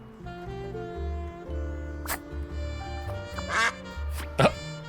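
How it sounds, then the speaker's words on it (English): Cartoonish duck quacks from the Duck Detective video game, several short bright calls scattered over a steady bed of game music. "We can manually quack. You are now quacking manually."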